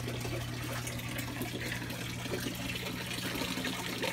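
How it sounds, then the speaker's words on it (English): Water runs steadily from a tap into a tub for a little boy's bath, with a Belgian Malinois nearby, a constant close trickling fill with a low hum underneath and no talking. "Taking a bath."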